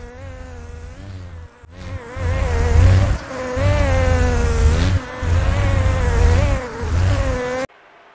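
A large insect buzzes loudly right beside the microphone, its whining drone wavering in pitch and swelling in bursts for about seven seconds before cutting off abruptly, with no talking.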